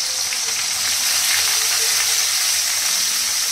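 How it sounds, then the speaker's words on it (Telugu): Onions and green chillies fry in a pan after cumin seeds, producing a loud, dense, continuous sizzle and crackle up close with no voices. "ఉల్లిపాయ పచ్చిమిర్చి బాగా వేగనిద్దాం"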